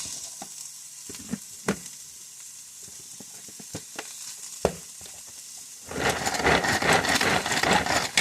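Chopped onion drops into a hot pan for a Philly cheesesteak casserole and bursts into a loud, steady sizzle, after a few light clanks and taps of utensils against cookware.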